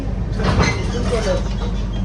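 Steady rumble and rattle inside a moving train carriage at night, a continuous loud broadband roar of wheels and cabin noise with faint voices underneath.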